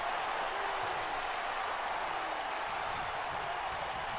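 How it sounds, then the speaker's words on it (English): Steady arena crowd buzz fills a WWE 2K19 wrestling match with The Rock against Corbin, a constant broadband roar with faint applause, no talk over it. "Crowd still buzzing"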